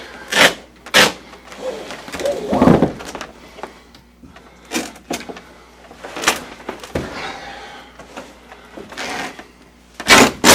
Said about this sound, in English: Some fabrics will tear one way better than the other way, so you have to get used to that.